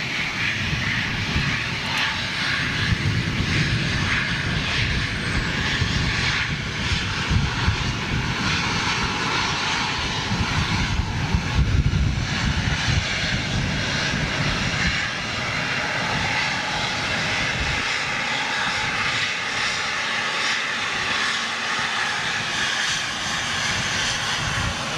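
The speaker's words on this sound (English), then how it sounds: "Oh, look at this. TUI Dreamliner." A TUI Boeing 787 Dreamliner jet airliner departs outbound, its engine roar loud and steady throughout with a broad rumbling wash, while a voice speaks intermittently over it.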